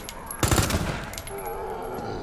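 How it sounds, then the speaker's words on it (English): A submachine gun in Resident Evil 2 fires a short, loud burst of rapid shots, and a faint hum of game ambience hangs on after the burst. "Like the submachine gun"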